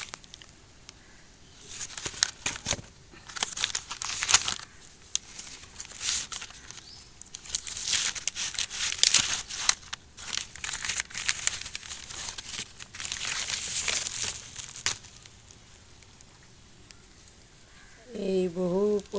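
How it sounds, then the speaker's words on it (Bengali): Crinkling and rustling of a plastic-wrapped parcel holding a Brahma Kamal plant from Meesho as it is unpacked, with bursts of crumpling handling noise near the mic over about fifteen seconds. "দেখি এবার আনপ্যাক করি। আনপ্যাক করলাম এখান থেকে।"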